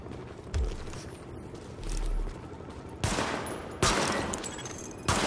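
Pistol sidearm shots crack in Tom Clancy's The Division as targets are fired on during a weapon test, several sharp reports spaced a second or so apart over a low ambient hum.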